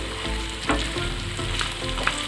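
Chicken pieces fry in a pan over low heat for a butter chicken recipe, giving a steady, soft sizzle and crackle with a few louder pops and a brief stirring scrape, close and with no talking.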